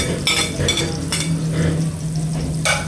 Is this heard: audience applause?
no